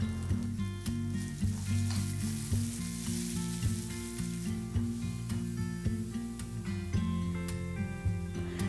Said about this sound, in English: Along with that, I'll also add fresh peas and saute till both are cooked.